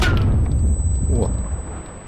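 Gunfire in a Second World War video game, a dense rumbling barrage of booms and shots that fills the whole clip at steady loudness, fading slightly toward the end.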